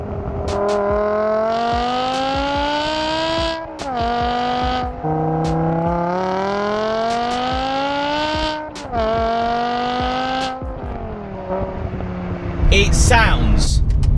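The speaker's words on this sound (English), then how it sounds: "the modification that you would do to any M5, is that TUBI exhaust system" A 2007 BMW E60 M5 fitted with a Tubi exhaust revs and accelerates hard, loud engine notes repeatedly climbing and dropping between gear changes, ending in a rough burst of noise.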